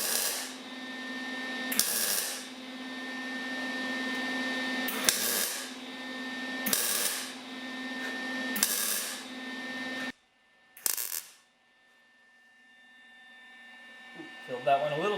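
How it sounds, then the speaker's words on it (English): Welding fills the unneeded holes in a front air-strut bracket for a 1976 Mazda RX-5 Cosmo: five loud, sustained crackling bursts separated by brief pauses, then quiet with a short final burst and faint handling noise. "I'm just going to fill the unneeded part of each hole with weld, and then I'll just grind it back out again"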